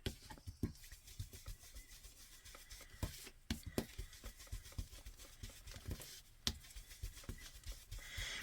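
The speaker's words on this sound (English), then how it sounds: "I'm just going to trim that a little wee bit with my scissors" Paper card stock for Christmas artist trading cards trimmed with craft scissors, giving soft close snips and rustling handling noises in irregular bursts, with sharper cuts near three and six seconds.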